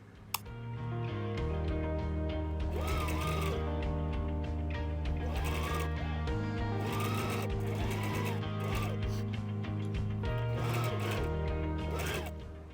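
A sewing machine stitches dress straps down with a steady mechanical whir and rhythmic needle ticking, running continuously and close with slight changes in speed.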